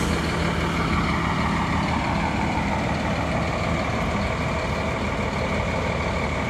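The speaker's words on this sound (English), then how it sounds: "Isn't that a beautiful fire truck right there?" A Sandoval County Fire Department fire truck idles nearby on a forest road. Its diesel engine gives off a steady, loud low rumble with a constant hum and no breaks throughout.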